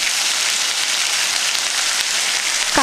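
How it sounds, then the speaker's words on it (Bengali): Banana flower frying in hot oil with ginger paste, giving a steady, close hiss of sizzling with no voices. "ফড়ংটা ভালো করে ভেজে নিচ্ছি আদা বাটা দিয়ে দিলাম"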